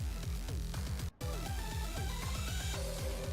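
Video game theme music for the society from the Cold Steel series, a short loud looping passage with a driving low bass pulse and layered melody, broken by one brief dropout.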